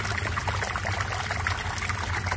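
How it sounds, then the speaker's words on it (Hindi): Water poured onto garden plants, a steady trickling pour that runs continuously and close by, with no voices. "2-3 पौधे को हमने जो है पानी पिला दिया"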